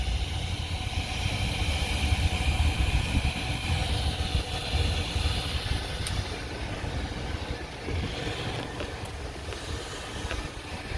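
A 2013 Volkswagen Jetta engine idles steadily at a car wash, a constant low rumble holding at even loudness throughout amid faint background noise.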